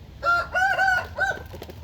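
A fighting rooster gives a few short, loud clucking calls close by, in quick bursts with brief pauses, over a low background rumble.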